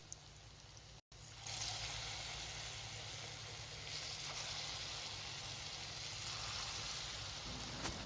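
Palm fruit fritters (taler bora) sizzle steadily in hot oil in a home kitchen, a continuous close hiss with faint bubbling that carries on without a break after a brief dropout near the start.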